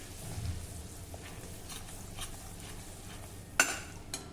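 Gram flour roasting in oil in a pan for a Maharashtrian brinjal curry, a soft steady sizzle with scraping stirs and a sharp clink of the spoon near the end.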